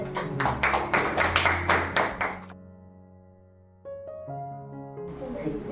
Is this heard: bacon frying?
no